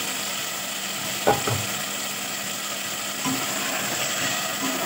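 Yogurt, garlic-ginger paste and tomato go into a hot pan for a chicken cauliflower curry, giving a steady sizzle with a couple of sharp clinks of a spoon against the pan.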